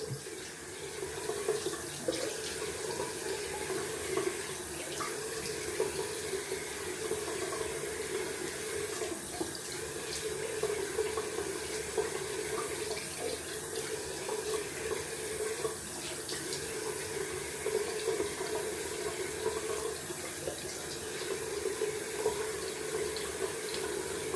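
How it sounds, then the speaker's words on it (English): A bathroom sink tap running cold water for rinsing after a wet shave, a steady, continuous splashing stream close by that holds at an even level for the whole stretch with no talking. "Gonna rinse off with cold water."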